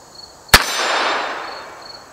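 A single sharp crack from a Ruger revolver, a Single-Six or Security-Six, fired at a target outdoors, with a bright ringing tail that decays over about a second and a half.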